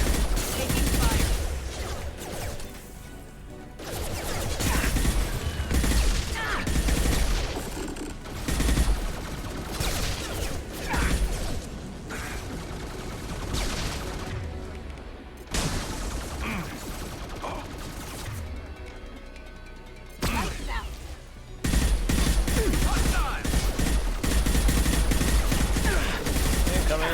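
Heavy, continuous gunfire and combat noise from the video game Mass Effect Legendary Edition, loud and dense with short lulls, with voices speaking over the battle.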